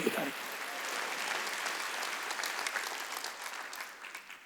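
A church congregation at a Wednesday worship service claps in a continuous fast patter, fairly distant and steady, fading slightly toward the end.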